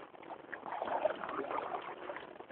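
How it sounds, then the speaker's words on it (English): A canoe paddle stroke in the water on the St. Croix River, a faint, soft swish and gurgle of water that swells and fades over a couple of seconds. "I'll take a paddle stroke away from this fish."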